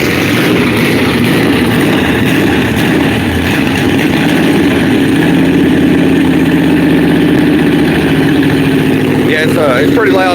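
A loud car engine running steadily with a deep, rough rumble, its pitch rising near the end as it revs, with voices partly audible over it.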